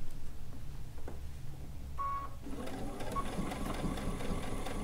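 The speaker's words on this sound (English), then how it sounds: "Keeping that fabric nice and flat as I go under that foot." A sewing machine stitches fabric pieces for a DIY bucket hat, starting after a brief beep and then running steadily with a dense, close mechanical whir that fills the rest of the short clip, with no voices.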